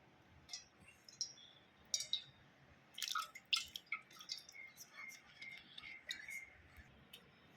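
Amla and jaggery liquid strains through a filter into a container with faint, irregular drips and small splashes, quiet and close.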